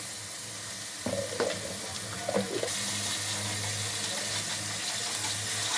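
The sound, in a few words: ginger garlic paste frying in oil with dry prawns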